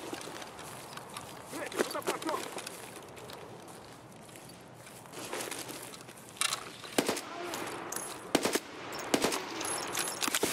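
Shotgun blasts from a scav in the Escape from Tarkov video game crack out as a few scattered sharp reports. They fall mostly in the second half, at medium loudness, over footsteps and background game noise.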